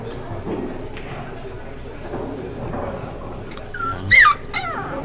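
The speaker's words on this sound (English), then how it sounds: "She's barking so that I'll pet her." A dog gives a brief high whimpering yip near the end, over steady background noise and some talk.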